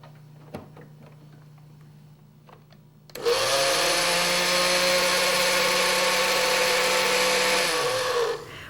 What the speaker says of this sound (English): To operate a blender safely, never put your fingers or utensils into the blender while it is operating.